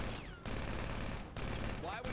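Rapid continuous gunfire rattles in a GTA V NoPixel roleplay shootout, dense bursts of shots with brief gaps between them.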